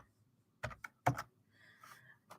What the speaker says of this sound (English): I'm going to type this into this chat.